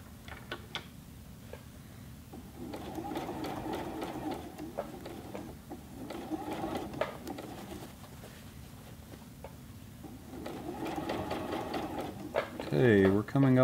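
Juki G210 sewing machine stitching a denim jeans leg hem, running in steady rapid bursts with pauses between, fairly quiet, while a person talks over it.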